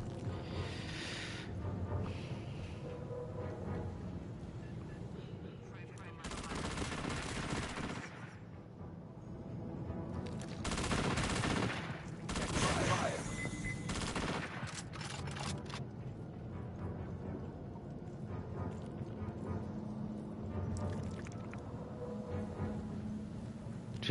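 Sustained gunfire from the video game Aliens: Fireteam, dense bursts of automatic weapon fire rattling continuously with louder clustered volleys and no pauses, loud and close throughout.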